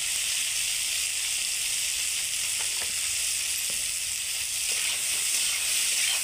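Eggplant frying in hot oil with salt, a dense, even sizzle that holds steady throughout, with a few faint stirring ticks.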